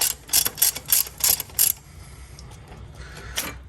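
Wrench ratcheting a 17 mm fitting loose on a car engine, with five rapid, loud clicking bursts in steady rhythm followed by quieter fumbling of metal parts.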